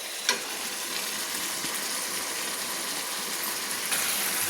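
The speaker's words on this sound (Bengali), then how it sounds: "ভালো করে আমি বাঁধাকপিগুলোকে আমি কষিয়ে নিচ্ছি।" Cabbage stir-fried with chicken masala sizzles steadily in a pan, a constant close frying hiss with a couple of brief scraping clicks from the stirring and no talking.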